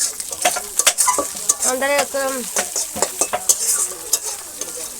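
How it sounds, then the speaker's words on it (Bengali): Chui, the stem of the chuijhal plant, sizzling as it fries while being stirred in a pan in a village kitchen, with scraping and clinking of the utensil and a few spoken words over it. "দিদা এখন চই ভাজবে, এই যে চই।"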